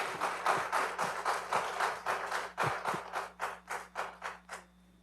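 Applause in a city council chamber fading to a few scattered claps: a loose rhythmic burst that thins out over about five seconds, moderately distant, with no talking.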